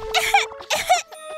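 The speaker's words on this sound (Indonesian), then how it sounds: "Ada apa dengan batuk itu?" Two sharp, close, loud coughs in quick succession from a person, followed by a short throaty rasp as the sound trails off.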